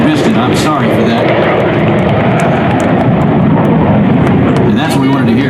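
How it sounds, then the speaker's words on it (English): F-16 fighter jets fly over an airshow, a loud continuous engine roar filling the air with a public-address announcer talking over it. "our F-16 flyover as the flag comes in landing"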